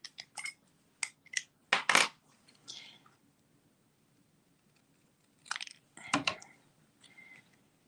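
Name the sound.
trimming cardstock with craft snips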